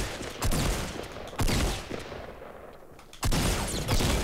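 Gunfire in the video game Fortnite, loud bursts of rapid shots arriving in three separate volleys with short quieter gaps between them.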